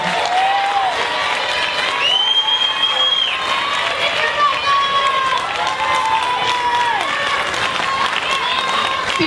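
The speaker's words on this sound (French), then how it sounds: "Alors applaudissons tous notre roi" An audience at a gathering in Montreal applauds their king, with continuous dense clapping and crowd noise and high tonal voices or cheers rising above it throughout.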